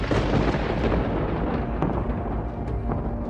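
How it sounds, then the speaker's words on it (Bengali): Thunder rolls through a storm over a village forest, a continuous heavy low rumble that stays loud and dense throughout with a few faint crackles, and no voices. "ওই দেখো আকাশে কেমন বজ্রপাত হচ্ছে।"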